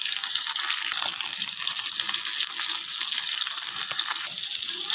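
Bitter gourd sizzles in hot mustard oil with salt and turmeric in a kadai, a steady, close, broadband crackling hiss that holds evenly for the whole stretch with no voices.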